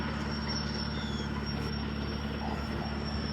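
A tractor engine runs steadily somewhere nearby as a low, continuous rumble with a droning hum over faint background noise, and no talking.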